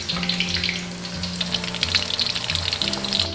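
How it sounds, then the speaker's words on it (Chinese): Batter-coated oysters frying in a batch in oil heated to medium, giving a steady crackling sizzle with bubbling, close and moderately loud, no talking. "为了节约一点油，所以我们还是要分批给它炸"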